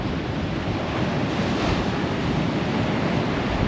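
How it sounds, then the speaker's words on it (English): Strong wind gusting at the seaside in Folkestone, a steady loud roar with surf-like rushing and microphone buffeting throughout, no voices. "hopefully the wind noise won't be too bad here"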